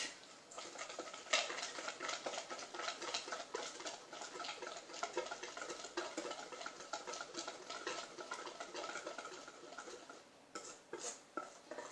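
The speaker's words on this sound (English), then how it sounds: "Now you are going to mix it." Chickpea batter for cauliflower fritters mixed in a bowl, a quiet rapid ticking and scraping of a spoon or whisk going steadily round, close-up and faint.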